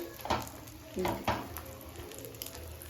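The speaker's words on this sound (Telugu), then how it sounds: "ఇదంతా పెనం మీద ఇట్లా నూనె పోసుకోవాలండి" Oil poured onto a hot iron griddle (tawa) for an egg omelette chapati gives a soft, steady sizzle, broken by a few brief clattering scrapes, with a voice talking over it.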